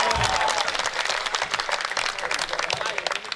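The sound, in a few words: audience applause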